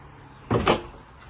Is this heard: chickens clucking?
no